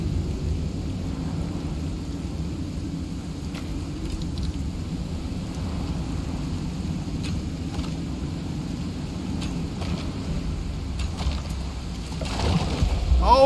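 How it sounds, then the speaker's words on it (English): A thunderstorm in the survival game Icarus, heard as a steady low roar of wind and rain with faint crackles, swelling into a louder rumble near the end. "Gotta turn down the volume so I can hear you over the storm."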